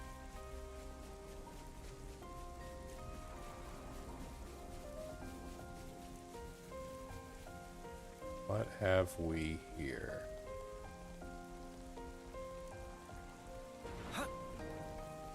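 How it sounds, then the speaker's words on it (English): Soft, steady rain in the video game Xenoblade Chronicles 3, a faint hiss beneath game music and tonal sound effects, with someone briefly speaking partway through. "It's been raining for a long time in the zone."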